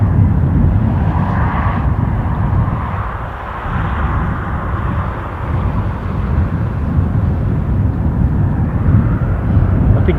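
A loud, steady jet roar fills the air as an Embraer E2 airliner departs Newcastle International Airport for Amsterdam Schiphol, a broad rumble that holds strong throughout with a slight dip midway.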